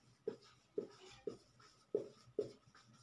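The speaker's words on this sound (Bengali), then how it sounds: "আমি একটুখানি লিখি এটা" A pen writes by hand on paper in five quick, distinct strokes at a fairly even rhythm, close and faint in a quiet room with no talk over it.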